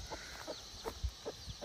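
A hen clucks softly in a Nepali village yard, a series of short, faint, rhythmic clucks spaced evenly apart at a distance.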